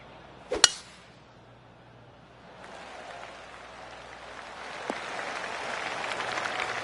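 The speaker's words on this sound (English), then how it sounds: "I can hear the golf claps around the course." Golf spectators clap from a distance around the course, a soft patter of applause that swells and then sustains, with a sharp click near the start.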